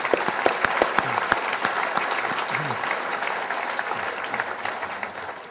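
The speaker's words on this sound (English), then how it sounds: "Will you please have a round of applause for our panel?" Steady applause from a crowd for a panel at a PGA Tour event in Wilmington, dense continuous clapping with a few louder individual claps standing out early on.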